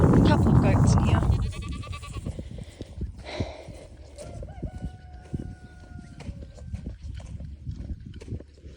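Sheep bleat in a farm paddock shared with alpacas and goats, a loud close bleat at the start followed by fainter calls and thin tonal cries, with a voice talking over much of it.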